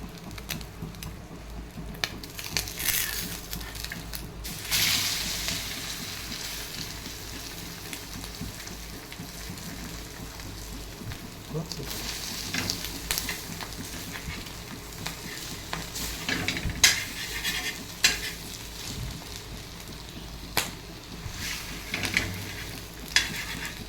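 Food seasoned with coarse black pepper and salt sizzles steadily in a hot pan and is flipped partway, a continuous crackling fry with a few louder stirring and turning bumps, close and alone with no voices.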